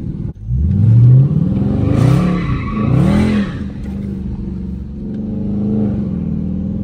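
A Dodge Charger R/T engine revs hard and rises and falls in pitch during an attempted drift U-turn in a tight spot, loud and close, with no tire squeal clearly standing out.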